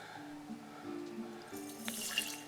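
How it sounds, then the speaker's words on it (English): Water is poured from a jug through the mesh lid of a sprouting jar, a soft, steady trickle and splash lasting a couple of seconds that grows a little brighter toward the end, with no talking. "pour water right through it"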